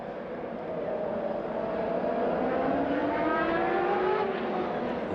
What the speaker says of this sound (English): Whoa, the car's going by at speed.